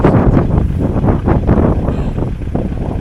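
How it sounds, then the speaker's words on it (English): Strong gale-force wind buffeting the microphone on a boat in rainy weather, a loud continuous roaring rumble with gusty surges throughout. "looking at that flag, it's blowing a gale"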